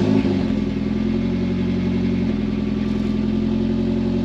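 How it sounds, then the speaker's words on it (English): The engine of a base-model car fires up from cold and settles into a steady, loud, fast idle that drones on evenly close by, with no voices. "Let me give you a little cold start here."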